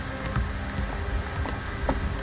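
Steady rain pours down in Skyrim, a continuous close hiss with scattered droplet ticks and no talk.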